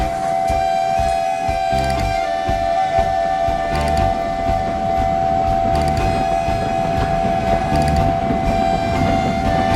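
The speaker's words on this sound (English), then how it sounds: "Thomas winced as Duck's whistle continued to blow" A loud, sustained steam engine whistle, stuck on, sounds continuously over rumbling, clattering rail noise, steady throughout without a break.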